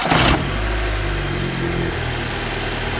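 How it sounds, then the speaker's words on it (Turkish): An Audi TT S-Line with a 2.0 TFSI engine starts with a brief loud burst, then settles into a steady, even idle hum that continues close by without voices. "Şu an araba çalışıyor."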